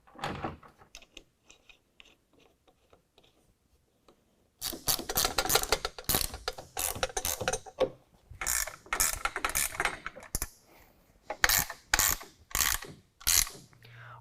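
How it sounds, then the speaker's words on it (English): Faint scattered clicks give way to bursts of close ratcheting as a 1/2-inch wrench snugs roof rack hardware on a 2019 Ram 1500, the strokes coming in quick uneven runs with short gaps. "now we can go ahead and snug it up on the other side of the rack as well"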